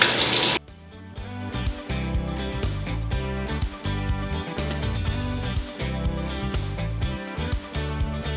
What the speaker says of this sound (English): get my hot water going